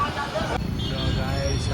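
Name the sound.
city road traffic in Ahmedabad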